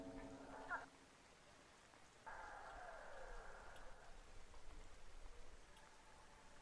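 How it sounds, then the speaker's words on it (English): Steady soft hiss of rain outside, fairly faint and continuous, with a couple of brief thin tones over it. "That's the rain outside."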